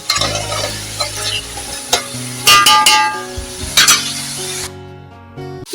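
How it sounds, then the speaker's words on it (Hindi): Beef biryani cooks on a low flame in a pot, giving a close sizzling hiss with stirring scrapes and clinks of a spoon against the vessel, several louder rattles, then a sudden drop to quiet. "इसको मैं बिल्कुल धीमी आंच पर तकरीबन 5 से 7 मिनट के लिए पकने दूँगी"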